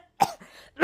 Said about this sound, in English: Oh no, I have a bad cough.